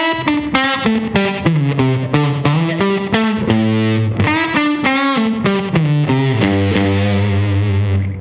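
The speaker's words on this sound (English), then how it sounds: "with that and with like the slapback delay, it just gives it like a crazy dimension" Fuzzed electric guitar through a Dophix Medici pedal with slapback delay, a melodic line of bending, sliding notes ending on a long sustained tone, loud and close.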